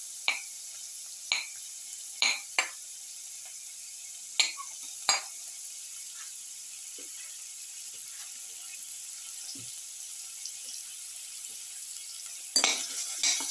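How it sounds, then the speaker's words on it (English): Onion pieces frying in a pan give a quiet, steady sizzle, broken by several sharp clinks and scrapes of a utensil stirring against the metal, with a final burst of stirring at the end. "Put in the onion pieces."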